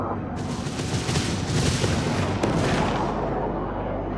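Combat gunfire in the space strategy game HomeWorld 3 rattles on in dense overlapping bursts, a loud continuous barrage of rapid shots and booms with no voices.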